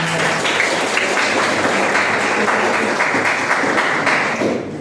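Clapping from an audience at an Indonesian motivational talk, a dense, even patter of many hands that holds steady throughout at a fairly loud level.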